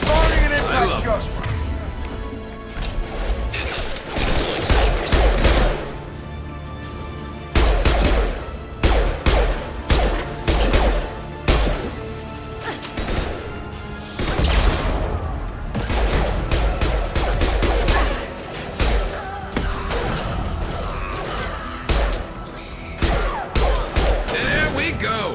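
Dense gunfire and impact shots from the Mass Effect video game, with a fight against gangs on Omega. Rapid bursts, booms and crashes repeat loudly throughout, while a voice talks over the action.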